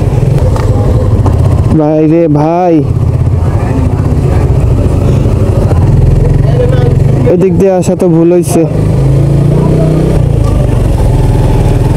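A motorcycle rides along a road, its engine a steady low drone running beneath someone talking close to the microphone for most of the time.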